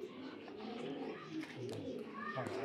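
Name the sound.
red checker racing pigeons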